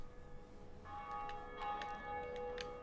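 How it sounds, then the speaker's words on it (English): A bell in Dark Souls rings faintly, sounding clear sustained metallic tones in several overlapping strikes with lingering resonance over quiet ambience. "And now I ring the bell."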